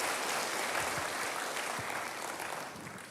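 Broadband clapping from a church congregation, a steady dense wash of hands that fades gently toward the end, with no voices over it.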